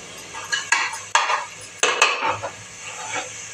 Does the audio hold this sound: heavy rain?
no